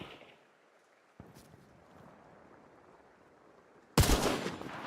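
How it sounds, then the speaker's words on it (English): Sparks rifle firing in a video game, a single sharp shot near 1.2 seconds followed later by a loud burst of gunfire at the end, set against quiet game ambience. "Oh no, this is the Sparks rifle."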